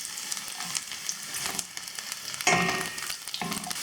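Garlic frying in sesame oil in a pan gives a close, bright crackling sizzle that swells briefly, with faint scraping of a spoon.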